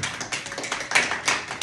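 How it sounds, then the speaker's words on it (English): A small group claps for itself in a short, loose burst of applause, moderately close and lasting under two seconds. "Do me one more favor, clap it up for yourself."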